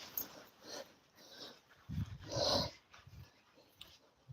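Off-lead dogs play in a forest on an evening walk, giving soft snuffles, panting and brief growly play noises at close range, with rustling movement between the quieter moments.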